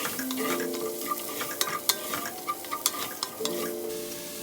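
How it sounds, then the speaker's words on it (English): Onions, celery and carrots sweating in a pot for beef stew, with a soft low sizzle under scattered scrapes and clicks of a spoon stirring now and then, close and fairly quiet. "So now you just want the veggies to sweat a little bit, so you stir around once in a while."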